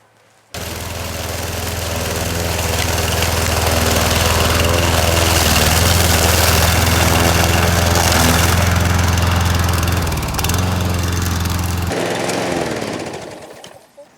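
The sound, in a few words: lawn mower running over leaves, sucking up and chopping them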